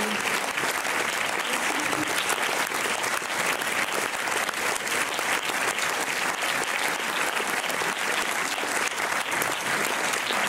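Sustained, dense audience applause fills a cinema after a film screening at the Méliès in Montreuil, honoring the director; steady and even throughout, with no pauses.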